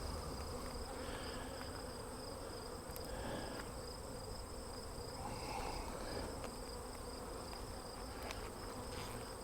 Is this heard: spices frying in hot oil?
no